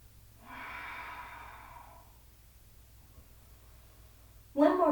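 Slow, deep breaths during a yoga session: one long, soft exhale of about a second and a half, then a quiet pause, then the start of another strong, close breath.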